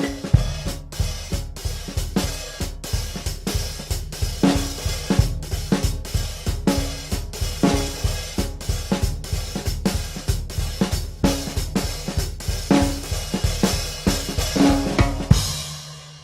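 A drum set plays a melody in a swing style over a steady four-on-the-floor feel, with loud, close, evenly pulsing hits and cymbal wash running continuously before a final ringing stop.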